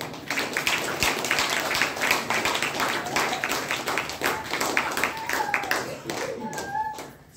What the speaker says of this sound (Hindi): अपने लिए फिर से पीटिए ताली